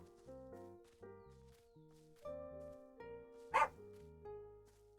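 A small dog barks several times in quick yips, faint and distant, over a soft backdrop of game music.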